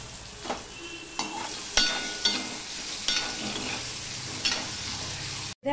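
Potatoes frying in a pan with a little turmeric and salt, a steady close sizzle broken by several sharp scraping stirs and clatters of a utensil against the pan, with no talking.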